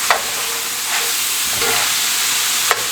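Ground beef sizzles loudly and steadily in a hot pan, with a few sharp scrapes of stirring cutting through the constant frying hiss.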